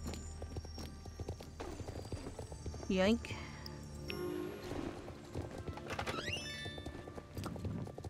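Horse in a video game whinnying once loudly, with clip-clop hooves and game ambience around it, while a person talks over the sounds.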